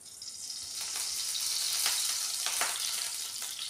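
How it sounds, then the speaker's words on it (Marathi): Oil poured into a hot kadhai on a gas stove sizzles in a steady, dense hiss, close and fairly loud, with a few brief crackles and no voices. "कढई गरम झाली आहे. आपण तेल टाकून घेऊया."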